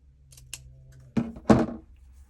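Two crisp scissor snips cut through ribbon on a handmade wedding-style Z fold card, close and isolated against a quiet room, with a faint softer snip just before them.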